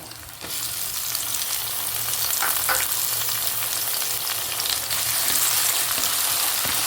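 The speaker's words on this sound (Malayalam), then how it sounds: "ഇപ്പം നമ്മുടെ കുഞ്ഞുള്ളി ഇഞ്ചി പച്ചമുളക് ഒക്കെ നന്നായിട്ടൊന്ന് വലിഞ്ഞു വരാൻ തുടങ്ങി" Shallots, ginger and green chili frying in a pan for a buttermilk rasam, a loud, steady, close sizzle that runs throughout with faint stirring scrapes and no talking.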